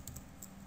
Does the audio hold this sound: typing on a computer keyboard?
yes